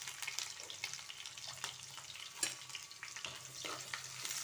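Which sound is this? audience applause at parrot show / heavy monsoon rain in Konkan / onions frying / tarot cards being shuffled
onions frying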